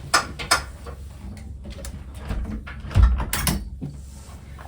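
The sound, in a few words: wooden pallets being taken apart in a garden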